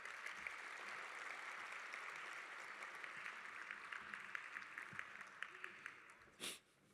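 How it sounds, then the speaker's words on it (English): Crowd applause at a high school awards assembly, clapping steady for several seconds, with a brief louder burst near the end. "A round of applause, please, for our juniors"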